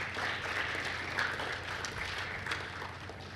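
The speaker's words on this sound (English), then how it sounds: "Give them a round of applause, please." An audience applauds the British Virgin Islands CARIFTA Games team, with steady, moderately loud clapping from a crowd throughout.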